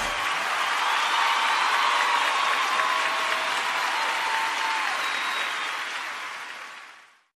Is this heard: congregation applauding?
yes